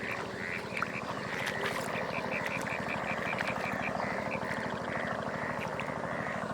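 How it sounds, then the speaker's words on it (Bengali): Dense chorus of frogs in a pond, loud and continuous rhythmic croaking from many animals at once, close and unbroken throughout with no voices over it. "ব্যাঙ ধরার চেষ্টা করবো আপনাদের দেখানোর জন্য যে এই ব্যাঙগুলো কত বড় হয়"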